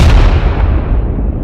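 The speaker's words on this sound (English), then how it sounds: "we created some very specific aerial explosion clips" An aerial explosion effect for jets: one loud, deep, rumbling blast that fills the whole moment and holds steady without fading.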